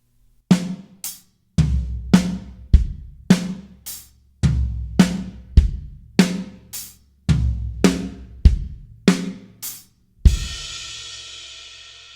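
A linear drum fill on a drum kit repeats several times in a steady, punchy cycle of close, loud snare, hi-hat, floor tom and kick strokes, ending on a ringing cymbal crash, with no talking.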